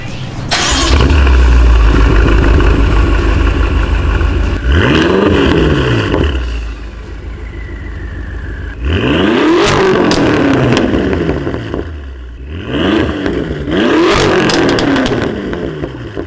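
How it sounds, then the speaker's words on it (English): A straight-piped twin-turbo V8 in a BMW M5 fires up loud and raspy and revs hard several times, rising and falling between deep rumbling idles, very close. "start the car and hear those beautiful straight pipe revs with this twin turbo V8 from this M5"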